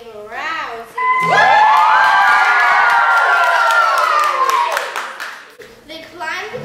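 A crowd of children cheers and claps loudly after a school science performance about the layers of the atmosphere. The sustained shouting and clapping rise suddenly, hold for several seconds, then fade, with brief voices before and after.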